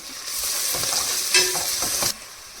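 Sliced onions frying in oil with salt for a bean curry, a bright steady sizzle with stirring scrapes that cuts off abruptly near the end, close up and without voices.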